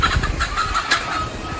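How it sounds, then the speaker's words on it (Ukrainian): A chicken clucks repeatedly as it flies down from a palm tree on Bali, Indonesia, with short, close, rhythmic cackles and a burst of flapping partway through, and no voices. "Разом з кокосом з пальми злетіла курка."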